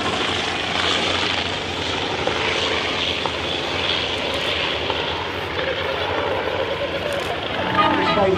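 A Fokker Dr.1 replica fitted with a Continental radial engine runs close by with a loud, steady propeller roar, continuous and rough-textured throughout.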